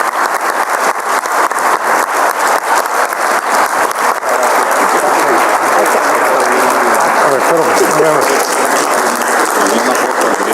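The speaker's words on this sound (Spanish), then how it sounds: "despedimos con un gran aplauso a Enrique en esta charla sobre finanzas en el Parque México" A large outdoor audience in Parque México applauds at the close of a talk on finance, with loud, continuous clapping that stays steady throughout.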